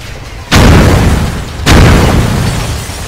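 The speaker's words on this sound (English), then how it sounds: "Detonate them now!" Two heavy booms from planted explosives in a toy army men battle scene, the first deep blast followed about a second later by a second one, each loud and close with a long rumbling tail.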